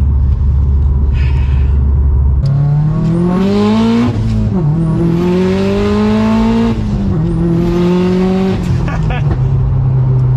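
A Subaru STI engine revs hard during launch practice, a loud low idle rising into sweeping revs that climb, dip and climb again with a strained whine, close up and filling the cabin.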